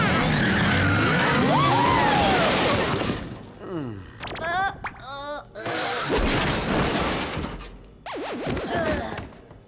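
Cartoon motorcycles race past with loud engine roar, tire skids and crashing impacts, the busy chase sounds fading briefly in the middle before rising again in sharp bursts.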